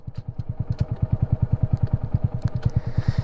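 Honda Grom motorcycle idling on a gravelly parking lot, a steady close-up single-cylinder putter with rapid even firing pulses throughout and a few light clicks.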